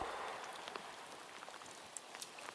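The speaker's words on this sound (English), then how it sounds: "We're out in the rain right now, and you can see it." Rain falls on an open field, a dense steady hiss scattered with close individual drop patters, heard alone without any talking.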